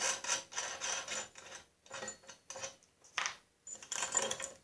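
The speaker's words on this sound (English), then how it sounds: "Now you take that nut off." Close, faint metallic rubbing and rasping bursts as a nut is worked loose from a Snapper drivetrain, repeated in short uneven strokes with brief pauses between them, with no talking.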